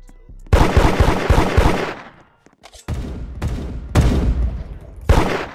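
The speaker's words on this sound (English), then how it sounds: "Who's this other girl shooting at me?" Rapid bursts of video game gunfire in a street setting: several loud, sharp volleys of automatic shots separated by brief pauses, close and dominant.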